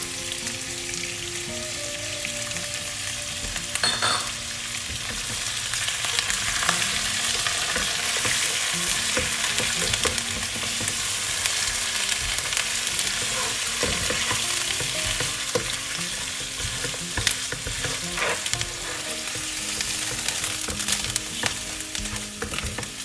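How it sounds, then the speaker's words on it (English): Lamb pieces frying with ginger and garlic in a pan for achari gosht, a loud, continuous crackling sizzle like heavy rain, with scattered stirring knocks throughout and no talking. "Now I'm going to add the meat in here with ginger garlic and let it cook until meat changes the color."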